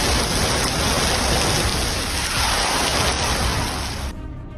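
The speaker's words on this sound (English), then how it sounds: "One side of the road drenches in heavy rain, while the other stays perfectly dry." Heavy rain pours onto a road in a steady, dense hiss, loud and continuous, thinning slightly at the very end.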